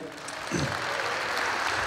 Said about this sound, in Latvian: Aplausi viņiem.